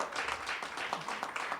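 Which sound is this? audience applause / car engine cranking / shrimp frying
audience applause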